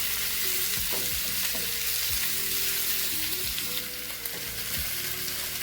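Onions sizzling in hot oil in a pan, a loud continuous frying hiss close by with repeated stirring clinks and scrapes of a utensil, no voices.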